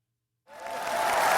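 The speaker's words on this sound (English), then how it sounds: "Big round of applause." A round of applause from a crowd breaks out after a second of silence and swells quickly into a dense, steady wash of clapping that keeps building toward the end, with a faint voice riding over the top.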